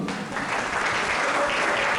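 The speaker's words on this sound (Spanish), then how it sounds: "Denle un aplauso a Tito" Dense, steady audience applause during a church sermon, a short continuous burst of clapping with no talk over it.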